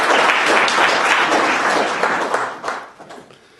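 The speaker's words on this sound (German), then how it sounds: "Herzlichen Applaus" Audience applausing a CEO being introduced at a retail market study presentation: a dense, loud wash of clapping from a crowd that holds steady, then thins and fades out over the last second.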